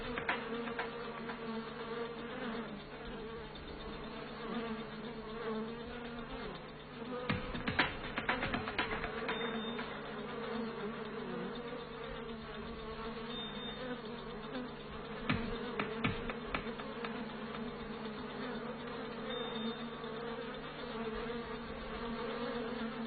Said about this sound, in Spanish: Al descubrir al intruso, las abejas tratan de atacarle y llevarlo fuera de la colmena.